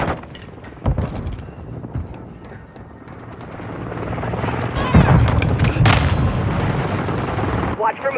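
Gunfire and explosions in a Call of Duty Modern Warfare 2 team deathmatch, loud scattered shots and booms over a rumbling helicopter-like drone, with voices talking amid the fighting.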